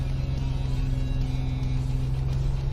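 A car idles at traffic lights under a steady, loud, low engine drone while brake boosting, the revs held fairly constant with only slight surges and no clear spoken voices.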